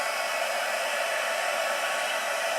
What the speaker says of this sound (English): heat emboss